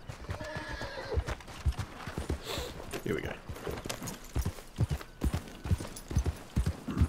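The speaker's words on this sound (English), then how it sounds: "just waiting for my stupid horse to get over here." Hooves clip-clop steadily with repeated neighs and whinnies from a horse in the video game Red Dead Redemption 2, heard close and fairly loud while someone speaks briefly over the sounds.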